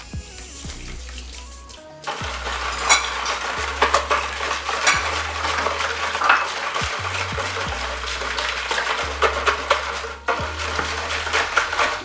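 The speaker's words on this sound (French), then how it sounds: "Je prends bien mon temps de mélanger le tout pour faire dissoudre le sucre." Spoon stirring sugar into a juice mixture in a pot to make Congolese ice, repeated scraping and clinking against the container over a low hum, with brief pauses between bursts of stirring.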